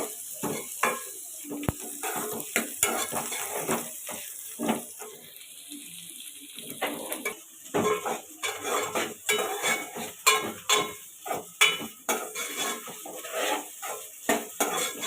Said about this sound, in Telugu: ఫైవ్ టు సెవెన్ మినిట్స్ మనం ఈ కాకరకాయని ఇలా వేగనియాలి